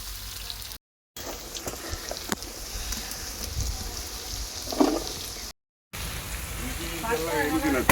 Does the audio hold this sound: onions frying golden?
yes